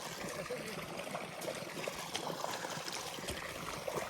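Outdoor running water pours in a steady, even rush, close and continuous throughout with no speech.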